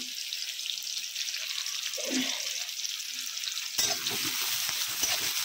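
Onions fry in a pan for pilau and chicken with a bright, continuous sizzle. A spoon stirs them in short scraping passes, and a sharper, busier hiss joins partway through.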